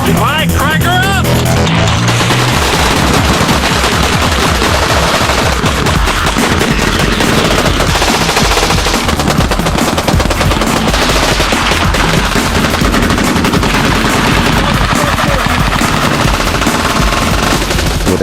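A hand-cranked Gatling gun fires a long, continuous, loud rattling burst of rapid shots that runs without pause throughout.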